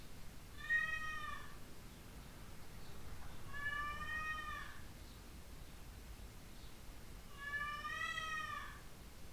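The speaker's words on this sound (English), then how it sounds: "So my cat is really annoyed in the background" A domestic cat meows in three drawn-out, harmonic calls spaced a few seconds apart, each rising and falling with an irritated tone, fairly distant against a low steady room hiss.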